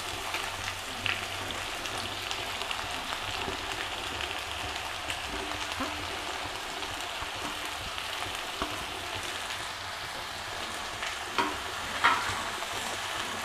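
Onions for an onion pickle sizzle in a pan with a steady close hiss, occasional sharp crackles and a stirring scrape near the end.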